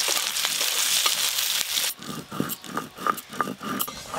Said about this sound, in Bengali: পেঁয়াজ কুচিগুলো ভেজে নেবো